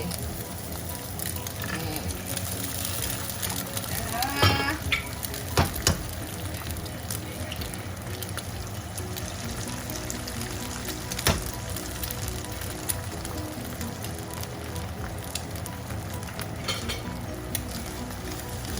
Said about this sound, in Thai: ทอดไข่ดาวละ ใส่กระทะเดียวกันเลย